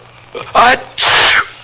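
A single sneeze, close and loud, with a short breathy intake followed by a sharp burst.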